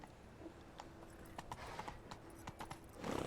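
Roach the horse trots along a path in The Witcher 3, hooves clip-clopping in a steady rhythm amid ambient game sounds, with a brief snort or rustle near the end.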